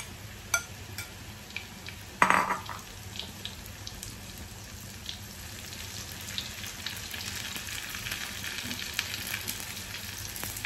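Sweet corn fries on a low gas flame with a soft, steady sizzle and faint crackles, plus one sharper clatter near the start. There is no talking.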